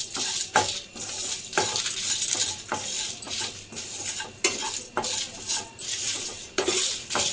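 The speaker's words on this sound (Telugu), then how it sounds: "దీన్ని అయితే లైట్గా ఒక 2 మినిట్స్ వరకు అయితే ఫ్రై చేసుకుందాం." Grated fresh coconut fries lightly in a pan while a metal spatula stirs it, scraping and clinking against the pan in a repeated rhythm over a faint sizzle.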